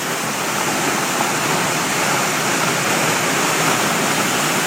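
Waterfall at Mount Rainier plunging over resistant volcanic rock into a plunge pool in a carved gorge, a loud, steady, close roar of falling water that fills the whole clip without a break.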